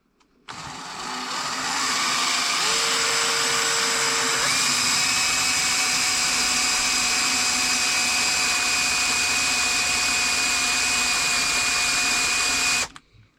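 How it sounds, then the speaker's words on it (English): A power drill bores a 3mm hole through the middle of a steel oil drain plug, running steadily and loudly for about eleven seconds with a rising whine that shifts pitch partway through. "now I've got that drilled out with a 3mm hole at the middle"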